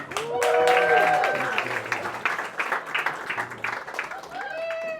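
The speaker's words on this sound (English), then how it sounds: "Big round of applause for Ethan Filler, y'all." Audience applause for a comedian at a stand-up show, loud and full at the start, then thinning into scattered claps as a voice talks over it.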